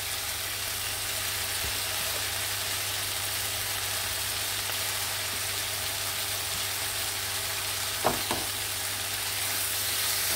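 A Goan beef chilli fry topped with coriander stirred in a pan, a steady hissing sizzle throughout with a couple of brief spoon taps near the end.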